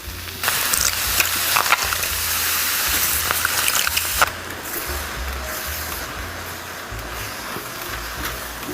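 Mushrooms sauté in a hot pan for a creamy chicken dish, giving a steady, loud sizzle and hiss with occasional stirring clatters and a slight drop in intensity midway.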